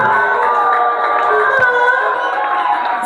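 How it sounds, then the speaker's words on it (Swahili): Church congregation clapping and cheering together in a sustained crowd roar with a few whoops, loud and continuous throughout. "Mpe Yesu makofi."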